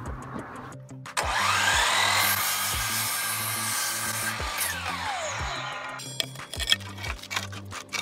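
A wooden board being cut to length for a porch railing with a power saw, a loud steady whine with rising and falling tones that holds for several seconds and then winds down, with a regular mechanical knocking underneath.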